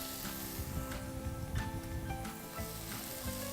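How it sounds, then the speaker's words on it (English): Tomatoes sizzle and fry in a hot pan, a continuous crackling hiss with faint stirring scrapes mixed in, close and steady with no talking. "We add some tomatoes inside. So once the tomatoes go, give them a mix."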